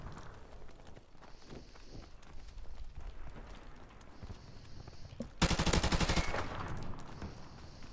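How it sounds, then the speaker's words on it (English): Gunfire in the shooter Modern Warfare Remastered during a 2v2 match: scattered distant shots and game noise, then a loud rapid burst of automatic fire about midway that trails off into softer ambience. "I've shot him a million times."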